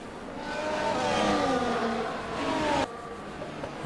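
Formula 1 cars from a racing video game, a Williams and a McLaren, fight wheel to wheel through turn 1 at COTA, engines wailing and shifting pitch loudly together before one note cuts off abruptly.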